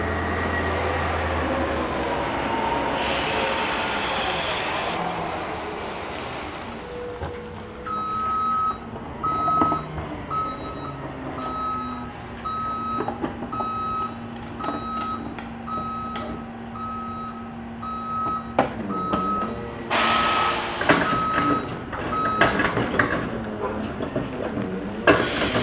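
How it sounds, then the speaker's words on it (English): A garbage truck works nearby, its engine rumbling with loud hydraulic whines and clanks while a steady reversing beeper repeats through much of the stretch, ending in a burst of mechanical noise. "Pretty violent garbage truck."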